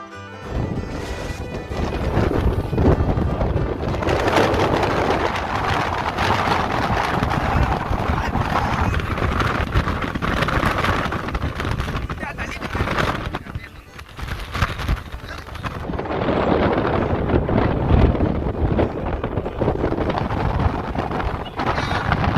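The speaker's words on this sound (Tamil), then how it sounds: "ஸோ பயங்கரமான காற்று. ஸோ அப்படியே பனி காற்று." Strong wind roars and buffets the microphone almost continuously at a misty hilltop viewpoint in Kollam, loud and close, easing briefly midway before gusting again.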